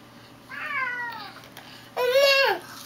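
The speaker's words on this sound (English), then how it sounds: "Yeah, I hear the kitty." Two distinct cat meows, a drawn-out one followed after a pause by a louder, higher one, heard close against quiet background hum.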